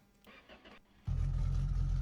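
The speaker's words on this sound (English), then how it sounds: "we've got another custom engine sound" Custom car engine starting in a driving video game: a cranking starter whir for under a second, then the engine catches into a loud, steady low idle rumble.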